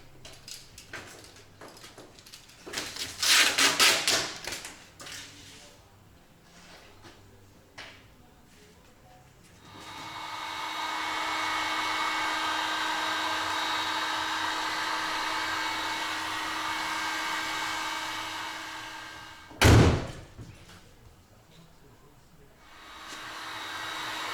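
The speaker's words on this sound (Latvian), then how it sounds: "Tas ir Šveices fēns." A Swiss hair dryer blows with a steady, fairly loud whir that lasts about ten seconds. A sharp knock comes after it, and there are some scattered clatters and bumps before it.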